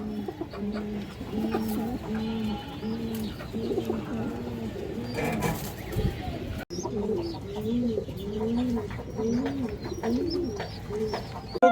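Caged pigeons coo steadily in repeated rolling calls, with chirps and clucks of other birds mixed in; close and continuous, no voices.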